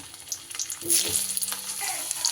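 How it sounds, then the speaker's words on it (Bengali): Potato pieces fry in hot oil in a home kitchen, giving a continuous close crackling sizzle with small spatters and light stirring over a short stretch. "এবার আমি এই তেলের মধ্যে আলুগুলোকে একটু ভেজে নেব"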